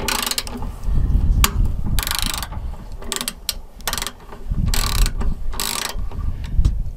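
A socket wrench ratchets in repeated bursts while a trailer hitch is bolted onto a 2016-2021 Lexus RX 350, the clicking close and fairly loud with short pauses and light mechanical knocks between strokes.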